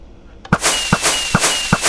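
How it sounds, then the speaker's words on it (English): Fireworks launched by redstone dispensers in Minecraft, a quick series of four sharp cracking pops spaced evenly about every half second after a faint click, loud and close with no voices. "This had to be the most fun I ever had to do, converting the redstone to fireworks."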